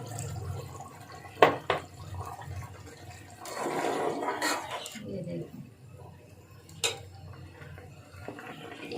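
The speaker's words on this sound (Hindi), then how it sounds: "1 कप हम लोगों ने पानी और डाल दिए।" Water pours into a pot of chicken and bottle gourd (lauki) curry with a steady splashing rush for a couple of seconds, amid kitchen clatter and a person talking.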